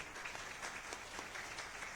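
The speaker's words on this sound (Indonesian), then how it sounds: "Tepuk tangan untuk Pak Lodi." A crowd claps in steady applause, a dense patter of many hands with small swells, fairly distant and moderately quiet.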